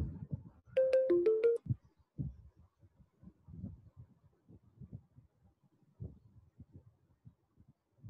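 A mobile phone ringtone plays a short, bright melodic phrase close by, then stops. Soft scattered taps and small handling noises follow in an otherwise quiet room.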